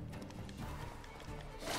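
A horse galloping in Witcher 3: Wild Hunt, with rapid, steady clip-clop hoofbeats close up and continuous throughout.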